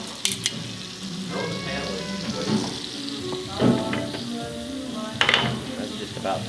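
Steak searing in a hot pan, a steady close sizzle and crackle with brief louder spits and bursts as the meat hits and settles, with faint talking in the background.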